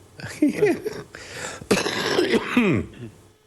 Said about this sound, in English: that's my residual cough